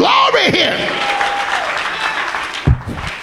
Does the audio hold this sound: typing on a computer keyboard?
no